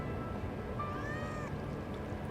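A cat meows once in Final Fantasy 7 Remake, a short rising-and-falling call over steady game background noise.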